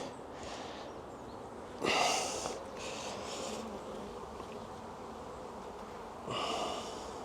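Honey bees buzz steadily nearby at an open hive, with a couple of louder, closer bursts of droning as they pass.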